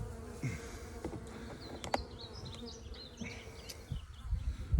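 Honey bees being shaken off a frame into a hive, giving a steady, dense buzzing swarm drone up close, with faint handling knocks underneath.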